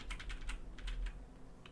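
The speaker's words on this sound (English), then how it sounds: "If I try shift and B and clicking, nothing really happens." Computer keyboard keys, Shift and B, pressed during play of a video game, a quick run of clicky taps in the first half followed by a couple of isolated presses, close and alone.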